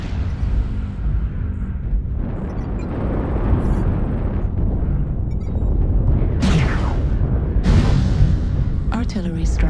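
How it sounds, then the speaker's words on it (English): Heavy booming explosions from an artillery strike in a video game, rumbling continuously with several sharp blasts near the end while voices talk over them. "Artillery strike activated."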